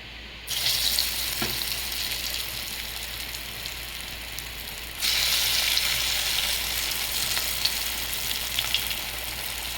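Green gram lentil fritters crackle and sizzle steadily in hot oil, the frying getting louder about halfway as more batter goes in.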